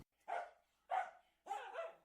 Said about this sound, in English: You can hear the dog, but there's no dog to be seen.